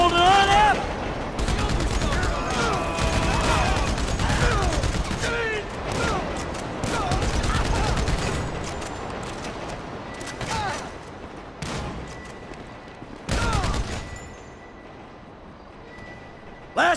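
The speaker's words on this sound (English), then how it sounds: "So I guess we're shooting our way out of here!" Sustained video game gunfire from GTA V during an escape shootout, dense loud bursts of automatic weapons and rapid shots that thin out toward the end, with shouted voices mixed in.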